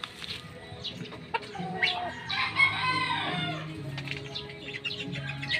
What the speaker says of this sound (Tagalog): Magandang manok din to at saka grabe rin mamalo.